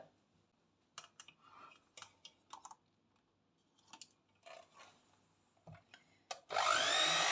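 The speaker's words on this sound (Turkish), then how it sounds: "Güzelce mikserimle önce düşük ayarda sonra yüksek ayarda pürüzsüz hale gelinceye kadar kremamı mikserimden geçireceğim." Light clicks and taps in a quiet kitchen give way to an electric hand mixer switching on near the end, whirring loud and close as it whips cream for a cake.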